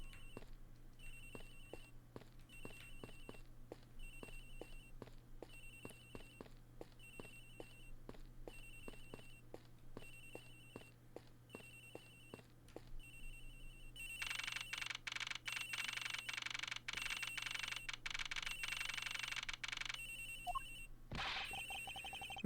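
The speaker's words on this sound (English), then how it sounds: "Agent Hicks's phone, it's ringing from somewhere, sir." A ringing phone in Ace Attorney Investigations repeats in even bursts of trilling electronic rings, quiet at first and then growing louder and brighter, alone with no talk, ending in a sharp click.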